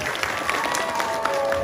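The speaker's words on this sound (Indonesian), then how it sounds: "Tepuk tangan untuk penabur yang luar biasa." Applause for the gamelan drummers at a temple gathering in Bali, a steady crowd clapping that fills the whole moment, with faint voices underneath.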